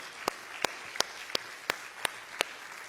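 Slow, evenly spaced claps during a church service, seven sharp single strikes about a third of a second apart, crisp and fairly close over a quiet room.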